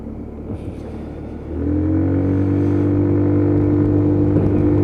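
A repaired Lexmoto Titan motorcycle on a dual carriageway opens to full throttle: a low road rumble swells into a loud, steady engine drone whose pitch climbs slowly and holds, with no talking.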